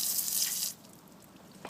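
Water sprayed at low pressure onto a deteriorating foundation wall to wash it before new mortar: a steady hissing spray for under a second, then it cuts off, leaving quiet dripping and room tone.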